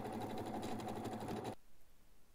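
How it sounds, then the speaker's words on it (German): A sewing machine stitching a seam parallel to a first seam on a fabric bag, a loud, fast, even mechanical whir for about a second and a half that then stops, leaving quiet room noise. "Da kann man parallel zur ersten Naht nähen."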